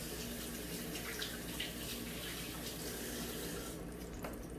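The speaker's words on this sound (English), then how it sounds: "And wash my hands." Tap water runs steadily into a sink while hands are washed, a continuous close splashing hiss that lasts throughout, during vegan biscuits and gravy cooking.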